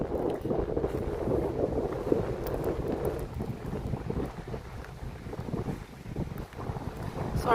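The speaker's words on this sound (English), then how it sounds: "Sorry about the wind, guys." Steady low rumbling wind buffeting the microphone by the North Sea at Lowestoft, UK, loud and continuous throughout, with faint water and boat noise underneath.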